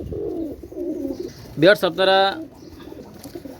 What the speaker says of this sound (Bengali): এটা হচ্ছে পাকিস্তানি রামপুরি কবুতর